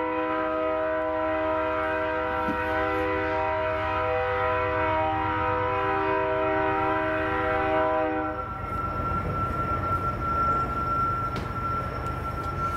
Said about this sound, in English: Thank you, Lord, for trains.